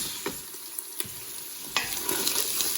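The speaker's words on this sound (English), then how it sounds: "we'll cook this for, 8, 10, I don't know how long it'll take for the sausage to cook" Sausage and onion mixture frying in a pan gives a steady crackling sizzle, with a few sharp clicks and scrapes of stirring that grow busier toward the end.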